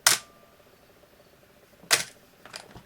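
A Canon AE-1 35mm film SLR with a 50mm f/1.4 lens fires at a two-second exposure: a sharp mechanical shutter click, a two-second pause, then the closing click and a lighter rattle, close and clear in a quiet room.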